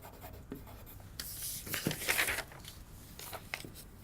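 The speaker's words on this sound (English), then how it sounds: "I write it down that there will be a fold made here." A pen or marker scratches a mark onto a paper sewing pattern, giving close, quiet bursts of scratchy strokes with brief rustles of paper between them and no voices.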